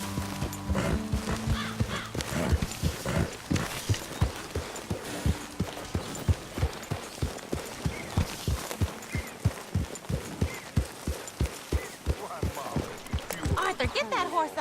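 Horse hooves clip-clopping in the video game Red Dead Redemption 2, a steady rhythmic run of hoofbeats that continues throughout, with a short passage of game music near the start.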